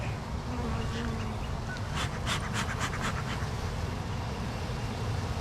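Honey bees hum steadily around a thriving hive, a dense continuous buzz close by, with individual bees whirring past the listener now and then.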